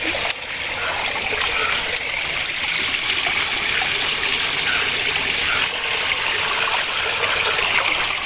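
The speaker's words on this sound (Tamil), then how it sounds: "ஓடை தண்ணீர் ஊற்றி நம்ம சிக்கனை நீட்டாக க்ளீன் பண்ணிடுவோம்." Stream water is poured to wash chicken for a village-style dum biryani, a continuous splashing, trickling gush at close range with no pause.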